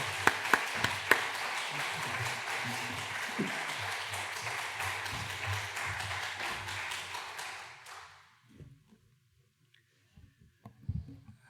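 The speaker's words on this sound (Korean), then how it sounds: "큰 박수 부탁드립니다" A church congregation at a Wednesday prayer meeting gives a sustained round of applause for a pastor, a dense, even clapping that fades out after about eight seconds, followed by a few faint sounds in near silence.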